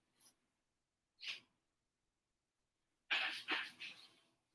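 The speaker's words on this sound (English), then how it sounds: "I'm gonna sneeze." Three sneezes from one person indoors, the first two short and separated by pauses, the last a louder burst with a trailing breathy tail, heard alone without talk.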